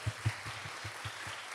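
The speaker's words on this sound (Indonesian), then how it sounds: "Saya ingin 10 detik kita kasih tepuk tangan yang terindah buat Tuhan yang kencang." Scattered, fairly faint clapping from a church congregation, a few sharper claps at first settling into a light, uneven patter.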